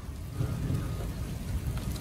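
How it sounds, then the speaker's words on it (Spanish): Heavy rain falls steadily on a mountain climb, a dense, continuous close wash of noise with a deep rumble underneath, with no voices over it. "Está lloviendo bien un perro"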